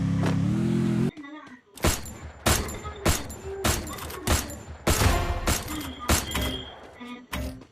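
Rapid bursts of MP40 submachine gun fire in a video game, loud and close, fired in several separated volleys with short gaps, following a low steady hum at the start.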